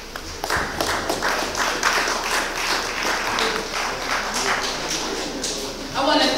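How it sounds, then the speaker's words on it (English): An audience at a Black Is Back conference panel applauds steadily, with dense clapping lasting throughout and the crowd close and loud. "another round of applause"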